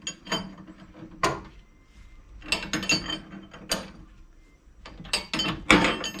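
Close ratchet clicks come in uneven bursts while a Koni strut is tightened on a 2004 Mustang GT, with quiet pauses between the sharp metallic ticks and no voices.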